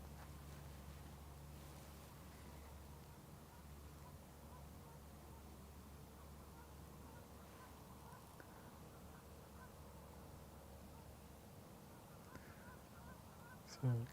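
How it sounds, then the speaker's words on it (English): Faint Canada goose honks at a distance over a low steady rumble of outdoor background noise, with a few scattered calls and mallards in the background, at Porpoise Bay. "So Canada goose, mallards in the background there."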